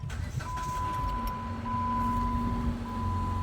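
A 2014 Jeep Patriot, overheating and known for noisy solid lifters, has its engine started and settles into a low, steady idle with a faint electronic chime tone running alongside.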